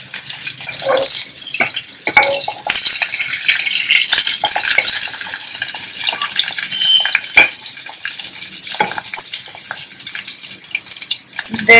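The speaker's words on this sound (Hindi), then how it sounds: "तेल गर्म हो जाएगा, सरसों के दाने डालने।" Mustard seeds sizzle and crackle in hot oil in a pan while a tempering for dhokla is made, a continuous bright hiss with scattered pops and occasional utensil clinks throughout.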